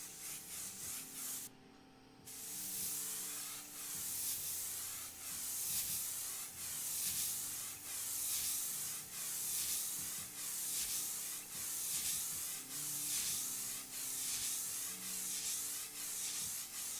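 Spray paint hisses in rhythmic, repeated bursts of overspray onto a memorial portrait, each pass a close, loud rush with short gaps between, after a brief pause near the start.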